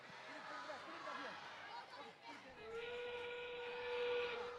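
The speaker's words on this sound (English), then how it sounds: "As that whistle means we are now into our end game period" A whistle sounds at an FTC robotics qualifier match to signal the start of the end game period, a steady high tone that enters partway through and holds over loud arena crowd noise and an announcer's commentary.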